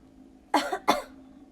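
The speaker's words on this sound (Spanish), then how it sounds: "percibió también el sonido de una tos rápidamente reprimida" A short cough of two quick, sharp bursts, cut off abruptly, over a faint steady background hum.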